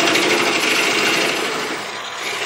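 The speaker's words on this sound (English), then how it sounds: "we can slow our lathe speed down a little bit" A wood lathe spins a punky blank with a dense, steady whirring buzz that eases slightly as the speed drops, close and continuous with no voices.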